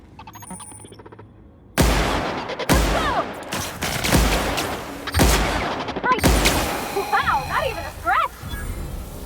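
Plasma rifle fire in The Outer Worlds, with several loud, sharp bursts close by and separated by short gaps, mixed with pinging and zapping game effects and a trailing hum.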